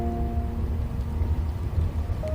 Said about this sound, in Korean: 창밖은 바람에 흩날리는 빗방울이 대각선으로 가늘고 긴 선을 그리며 흘러내렸고